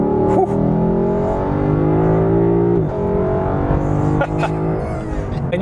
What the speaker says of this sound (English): It sounds like a muscle car or an AMG or whatever. Like, it really has that exhaust note.